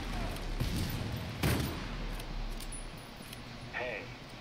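Gunfire bursts in the video game Army of Two: The Devil's Cartel, with a sharp, loud shot cluster near the middle over a noisy background and someone talking throughout.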